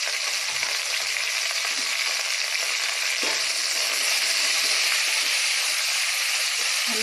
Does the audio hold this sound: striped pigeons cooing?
no